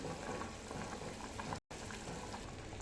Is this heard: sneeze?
no